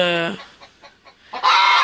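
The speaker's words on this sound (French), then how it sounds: "C'est une poule rouge pondeuse." A red laying hen cackles and clucks right after laying an egg in a poultry house: a loud, close drawn-out call, then a few short soft clucks, then another loud burst.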